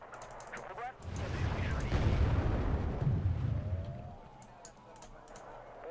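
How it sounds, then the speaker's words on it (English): Missiles fire in the video game Wargame: Red Dragon as a long rumbling roar of launches that swells for several seconds and then fades, with faint cracks and whistles around it. "Amazing how many missiles that thing can fire at."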